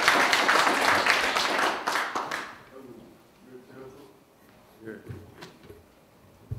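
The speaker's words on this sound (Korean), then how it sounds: "큰 박수로 맞이해 주시기 바랍니다" A crowd at a Korean conference event claps loudly to welcome a speaker, dense applause for about two seconds that fades out, followed by quieter room sounds and a few faint voices.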